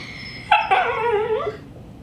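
A dog whines and yips indoors for attention, one short high cry followed by a longer wavering whimper lasting about a second, close and fairly loud, with no talking.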